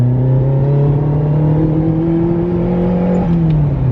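A Ferrari 308 GTB engine revs steadily and loudly, its tone climbing and holding near the top of the rev range, where it runs ever so slightly rough, then easing off toward the end.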